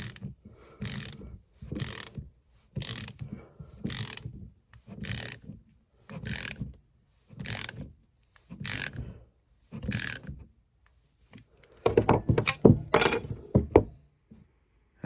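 Wrench tightening a bolt on a hockey dangler, close ratcheting clicks in about nine evenly spaced bursts, then a denser flurry of clicks and clunks near the end.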